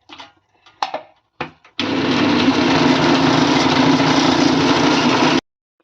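A kitchen mixer grinder whirs loudly and steadily for about four seconds while grinding spices, after a few short bumps and knocks as it starts; it then stops abruptly.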